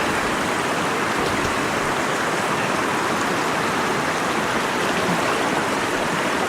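River water rushes and churns around a wader's legs, a dense, loud, unbroken hiss of flowing current close by with no voices.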